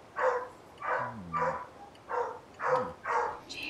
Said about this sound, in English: My dogs are going nuts again